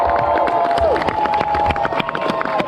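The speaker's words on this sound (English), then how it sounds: "How about a big round of applause for Marcus Jonathan" Audience at a memorial speech for a late rapper's father applauds and cheers, a dense, continuous wash of clapping with scattered shouts and whistles, loud and close throughout.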